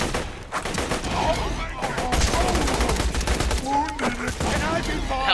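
Rapid gunfire from the video game Borderlands 2 crackles in dense, overlapping bursts alongside other loud game sounds, continuous and close, with a voice talking over the action.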